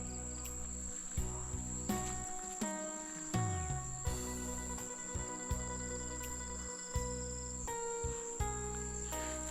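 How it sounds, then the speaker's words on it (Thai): Narrow-mouthed frogs call from hillside farmland, a dense steady chorus of trilling notes heard alongside a continuous high insect-like whine, with repeated soft knocks and thumps nearby. "ได้ยินเสียงอึ่งอ่างตัวอึ่ง"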